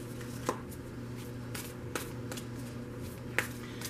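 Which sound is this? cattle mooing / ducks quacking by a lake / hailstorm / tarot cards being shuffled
tarot cards being shuffled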